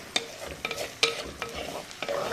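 Onion, turmeric and green chillies fry in oil for a king fish curry, giving a soft continuous sizzle broken by several sharp scraping stirs of a spoon against the pan.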